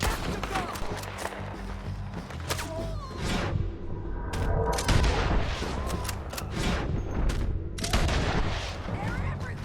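Heavy gunfire in Red Dead Redemption 2, dense volleys of rifle and pistol shots with booming reports crackling continuously throughout, loud and overlapping, with voices shouting over the shooting.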